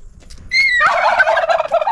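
A turkey on a village farm, kept alongside Kadaknath chickens, lets out a loud, close gobble. A warbling rattle follows a few faint bird notes and carries on to the end with no talk.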